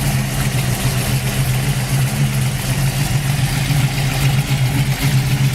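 A 1980 Camaro Z28 with a built 350 V8 running steadily at idle close by, a continuous low, even rumble with slight pulsing and no talk over it.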